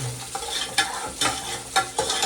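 Grains roast in a pan with repeated stirring strokes, a close scraping and rustling rhythm of spoon against metal over a low frying sizzle, with no one speaking.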